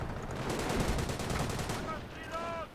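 Dense gunfire and machine-gun bursts crackle without pause in the Company of Heroes battle, loud and close, with a faint alert tone near the end.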